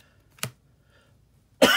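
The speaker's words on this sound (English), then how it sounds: "Forgive the coughing." Two separate coughs from an adult with allergies, close and fairly loud: a short one early, then a longer, harsher cough at the end, with quiet between them and no talking.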